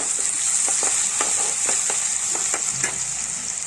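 Sliced potatoes and onion fry in a pan for a Tamil-style potato and coconut fry, giving a steady close sizzle broken by a few soft stirring scrapes and clicks, with no talking.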